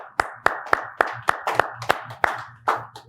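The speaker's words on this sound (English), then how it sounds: "just giving Tom a great big Man Up Philly round of applause" Steady, evenly spaced hand claps, about three per second, loud and close, a small group applauding rather than a large crowd.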